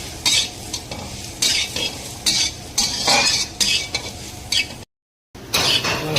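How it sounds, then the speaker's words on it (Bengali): Turmeric stirred into fish curry frying in a pan for a Bengali sorshe jhal with mustard: a steady sizzle with repeated scraping and clinking strokes of a spatula, briefly cut off near the end, then resuming. "হলুদ দিলাম, একটু নাড়িয়ে নেব।"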